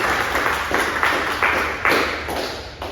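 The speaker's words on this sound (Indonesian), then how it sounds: "Berikan aplaus dulu untuk Diwan." A classroom gives a student a round of applause, a burst of close clapping that comes in uneven rhythmic surges and fades away by the end.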